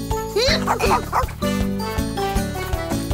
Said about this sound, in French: Mon chien Zim.